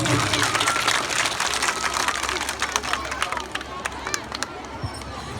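A crowd at a village Teeyan celebration claps for an elderly mother in a dense, lively burst of applause that thins out toward the end, with a voice speaking over it.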